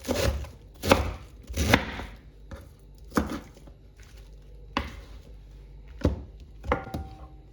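A knife chops young cabbage on a cutting board for a Korean-style salad in a series of crisp, irregular thuds, some landing in quick pairs, heard up close with no talking.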